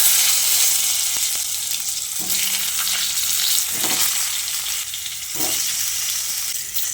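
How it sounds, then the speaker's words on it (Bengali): Boiled, cut potatoes frying in hot oil in a pan for an egg and potato curry, a steady broadband sizzle throughout with a few louder crackling bursts and stirring scrapes, close and fairly loud with no talking. "এবার আমি ওই তেলের মধ্যে সেদ্ধ করে কেটে রাখা আলুগুলোকে দিয়ে দিচ্ছি।"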